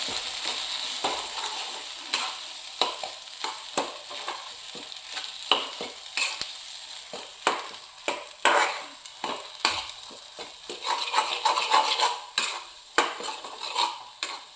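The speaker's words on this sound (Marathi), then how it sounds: "हे मिश्रण आता असं हलवून घ्यायचं आहे सगळं." Sweet corn upma mixture stirred in a pan, with quick, close scraping strokes in an uneven rhythm over a light sizzle and no voices.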